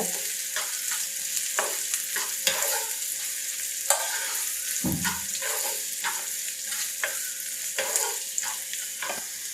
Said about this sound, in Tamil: ரெண்டு கொத்து கருவேப்பிலை இலை சேர்த்துட்டு வெங்காயத்தை வந்து நல்லா வதக்கிடுங்க